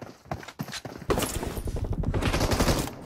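Gunfire rattles in a team deathmatch video game: a few sharp separate shots, then a dense, loud burst of rapid automatic fire, with no talk over it.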